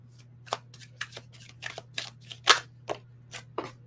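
Tarot cards are shuffled by hand in a series of sharp, papery riffles and snaps, roughly a dozen quick bursts at an uneven rhythm, close and crisp over a low steady hum.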